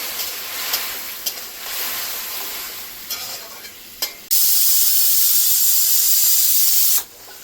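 Spice paste of turmeric and cumin powder frying in oil in a pan, a steady hiss broken by light stirring scrapes, then a sudden loud burst of sizzling steam for a few seconds before cutting off.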